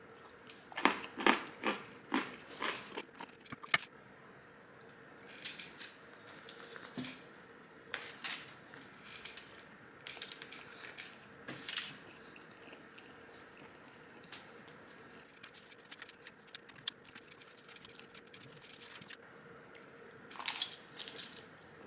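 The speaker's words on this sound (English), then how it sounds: "Okay, Red Baron, last bite." Someone bites into the last piece of a Red Baron frozen pizza and chews it, close crunchy bites followed by irregular soft chewing and squishing over about twenty seconds, without talking.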